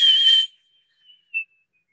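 A person whistles to imitate the whistle of an approaching train: one shrill, steady, high whistle lasting under half a second, followed by faint, brief trailing chirps and then near silence.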